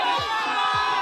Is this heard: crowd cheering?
yes